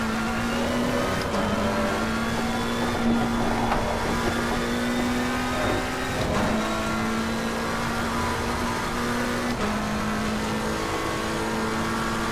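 A McLaren 720S GT3 race car in the racing game Assetto Corsa Competizione, its engine droning loud and close as it holds revs, with short dips and rises at gear changes while lapping a track.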